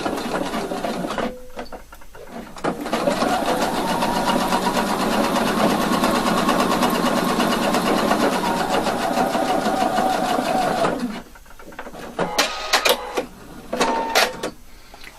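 A sewing machine runs a line of top stitching placed 7 millimetres from the edge. It starts and stops briefly, then hums steadily with a fast rhythmic chatter for about eight seconds before a few short bursts and clicks.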